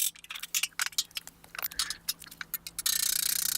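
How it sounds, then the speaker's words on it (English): A small hammer taps sheet metal folds in quick, irregular light strikes, sharp and close, followed by a steady rapid ticking patter near the end. "Using a little hammer just to sharpen those lines."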